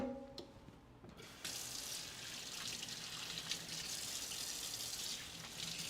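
Water runs steadily from a kitchen tap into a sink as a used item is rinsed during chicken meal prep, a continuous broadband hiss after a brief quieter start, close and alone without talk.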